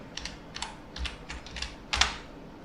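Keys clatter on a computer keyboard as a Linux command is typed, in short irregular bursts of clicks with brief pauses between them, close and fairly quiet, ending in a firmer stroke like a final Enter.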